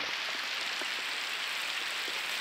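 Heavy rain pours down outdoors at a fishing spot, a dense, steady hiss of drops hitting surfaces, loud and continuous with no voices.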